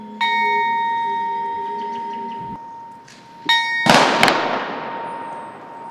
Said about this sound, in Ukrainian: У меморіальному сквері пролунав за ними дзвін пам'яті.